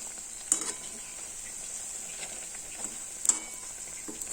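Sabudana vada frying in hot oil, a steady soft sizzle running throughout with a few brief scraping knocks as the vadas are flipped, fairly quiet and with no talk.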